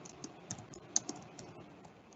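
Quick, light keystrokes tapped on a computer keyboard in uneven bursts, with a few sharper key clicks standing out, fairly quiet and close with no talking.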